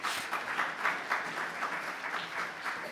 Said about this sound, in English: Could we give all our teachers a round of applause?